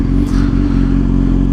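A Honda Grom motorcycle engine running close and loud just after starting, a steady low, rough idle with faint mechanical clatter, no talking.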